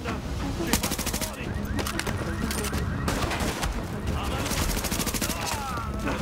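Rapid gunfire from the video game The Division, dense bursts of automatic fire and sharp shots crackling continuously and loudly, with someone talking over part of the action.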